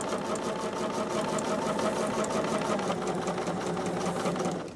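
A sewing machine runs steadily, stitching pieces of a cat-themed quilt together, with a fast, even, continuous mechanical whir close up and no pauses.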